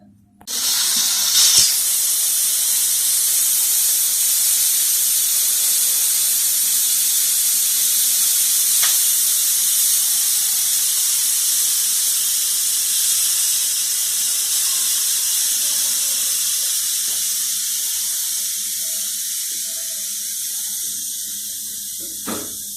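Mutton boiling in a pot for namkeen mutton karahi, a steady loud hiss of steam and bubbling liquid sustained throughout, with an occasional faint clink and no speech.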